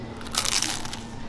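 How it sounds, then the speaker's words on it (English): A bite into a flaky Greek pastry made with olive oil at a bakery in Rethymno, Crete, gives a short, close, crackly crunch that fades into quiet chewing. "Did you hear that crunch?"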